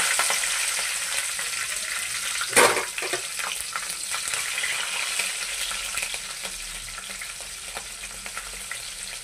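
Green chillies and shahjeera sizzle steadily in hot oil for a mushroom curry, with a sharp clatter and burst of spitting early on, then continuous close frying and occasional stirring crackles.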